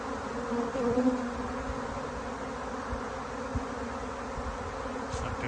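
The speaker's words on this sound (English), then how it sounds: "There's a lot of bees on the ground. There's a cool bee march there." Bees swarming on the ground and marching into their hive during a wrangling, giving a steady, dense buzzing drone that holds evenly throughout with a few louder passes near the start.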